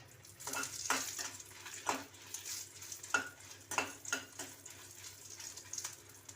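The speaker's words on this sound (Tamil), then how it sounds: "பாருங்கப்பா, மிளகாத்தூளும் பெருங்காயமும் வறுத்து எடுத்துட்டேன்" Chili powder and asafoetida being dry-roasted in a pan, with a soft continuous rustle and repeated spoon scrapes and stirs against the metal, fairly quiet and close, with no talking.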